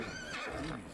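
Horse in the video game Red Dead Redemption 2 lets out a single loud, close whinny lasting about a second, with no voices over it.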